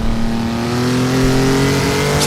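Race car engine revving in first gear in the Assetto Corsa racing simulator, a loud continuous close drone whose pitch climbs steadily, with no voices.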